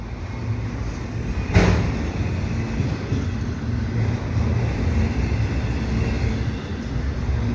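CN freight trains in winter at Dorval station, a steady low rumble of rolling cars running throughout with a brief sharp clank partway through, no voices.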